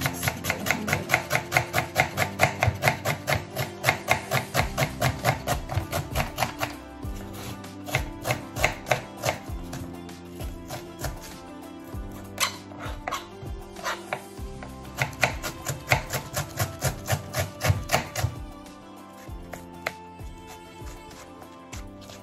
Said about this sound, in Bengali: আগে আমি পেঁয়াজ কাটিলাই তারপরে শুরু করবো রান্না